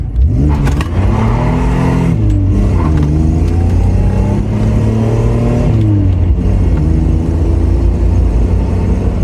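A 1992 Camaro RS drives and turns around. The close, loud engine hum rises and falls with gear changes and throttle, and rolling tire noise runs throughout.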